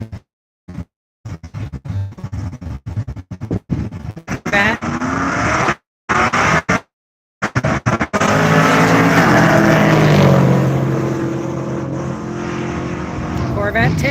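Drag racing cars at a dragway, a Tesla in one lane against a small blue Chevette, roar loudly down the strip after a broken, choppy start, the sustained engine and tire noise filling the second half with talk over the early part.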